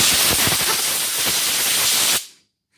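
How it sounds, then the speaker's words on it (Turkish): Compressed air blasting onto a motorcycle mirror during cleaning, a strong steady hiss lasting about two seconds before cutting off sharply. "Buna da hava tutalım temizliği."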